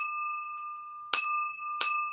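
A struck crystal glass rings with a sustained, pure bell-like tone, and two sharp strikes each bring a bright ringing that slowly fades.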